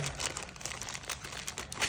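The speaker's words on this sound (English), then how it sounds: "Lots of plastic bags, it seems, inside here." Plastic bags crinkle and rustle up close while a case for an FB Radom VIS 100 M1 Polish military pistol is unpacked, the crisp crackling continuous and fairly loud throughout with no talk.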